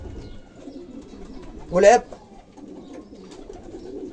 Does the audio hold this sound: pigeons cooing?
yes